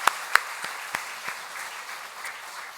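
A Catholic congregation applauds and cheers at a Holy Spirit seminar, with a few sharp, loud claps at the start and then a sustained, even roar of clapping that gradually settles.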